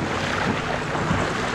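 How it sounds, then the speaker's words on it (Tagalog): Steady rushing water noise fills the whole clip, a broad continuous roar of a strong river current with waves, with gusty wind buffeting the microphone. "malakas-lakas din yung agos ng tubig"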